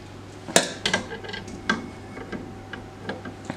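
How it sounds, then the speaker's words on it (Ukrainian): A spatula gently folds cake batter of flour sifted with coffee and cocoa for a drunken cherry cake, giving sparse, light clicks and taps against the bowl over a quiet background, with no talking. "Подивіться, як я ніжно, ніжно перемішую інгредієнти лопаткою ні в якому разі віничком."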